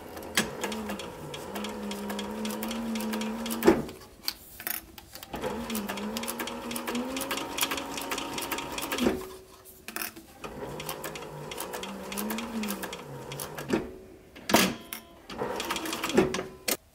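A sewing machine stitches a sun visor seam slowly in repeated runs of several seconds, with short pauses and clicks between them, close and fairly quiet.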